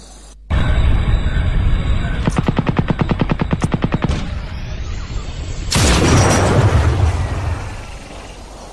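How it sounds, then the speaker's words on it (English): Rapid .50 caliber gunfire in a video game, a fast regular string of heavy shots after an opening blast, followed by a loud booming explosion that fades out. "Now that's a 50 cal."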